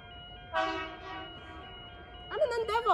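Sydney commuter train passing through the disused old race course platform at Menangle Park, with a steady rumble, a tonal horn blast near the start and a second pitch-bending horn toward the end.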